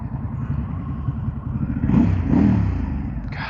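A Harley-Davidson Pan America motorcycle engine runs with a steady low rumble, then swells into a louder rev around the middle before settling back, close and loud with no talk.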